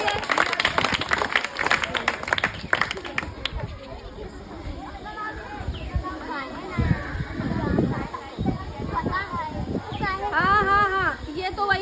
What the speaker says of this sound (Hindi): ताली बजाओ भैया